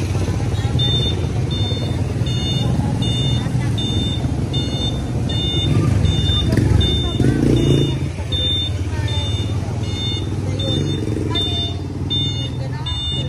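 A three-wheel electric bike's reversing beeper chirps in a steady repeating pattern, sitting over a constant outdoor rumble and motor hum, with people talking nearby.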